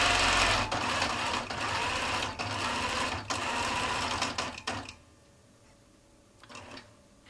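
A sewing machine runs quilting stitches in fast, steady mechanical bursts with brief pauses, close and clear, then stops and leaves near quiet for the last couple of seconds.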